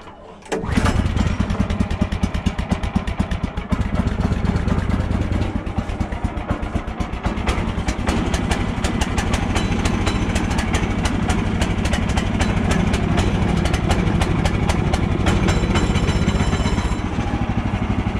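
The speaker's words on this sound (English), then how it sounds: "The engine fires up quite easily most of the time." A sawmill's small petrol engine cold starts on choke, catching almost at once and then running at a steady, loud, close-up chugging idle that holds for the rest of the stretch.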